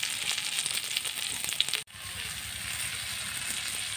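Ayala fish fries slowly over low heat, giving a steady close sizzle with light crackling that briefly cuts out before resuming.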